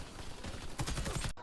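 Gunfire from an online shooter video game erupts as a rapid burst of shots, loud and dense, after a brief stretch of muffled game noise, then cuts off abruptly.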